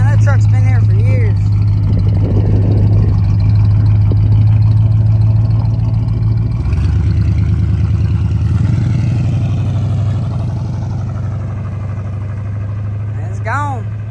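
An old square-body Chevrolet truck's engine rumbles steadily, shifting in tone partway through and easing slightly as it drives away, with people talking over it.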